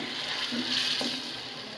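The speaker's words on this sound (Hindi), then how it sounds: "अब इसमें ऐड करेंगे पानी, तकरीबन 2 चम्मच, और इसको हम मिक्स कर लेंगे।" Water is poured into beef liver masala frying in a pan, giving a brief sizzle and bubbling hiss that stays steady and close throughout.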